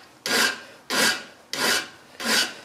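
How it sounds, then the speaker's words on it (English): Rivet tops being filed down by hand, four slow, evenly spaced rasping strokes, close and clear with no talk. "I think probably I forgot just to file the tops of these down just a little bit"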